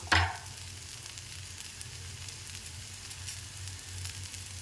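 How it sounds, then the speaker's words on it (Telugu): Radish leaves fry in a pan, a soft steady sizzle with faint crackles, opening with a sharp clack and a low hum beneath. "చూడండి ముల్లంగి ఆకు ఇలా ఫ్రై చేసుకోవాలి"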